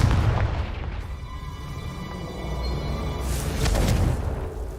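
A Confringo fire spell explodes in the Hogwarts Legacy video game. A loud, booming burst is followed by a sustained, rumbling roar that swells again near the end.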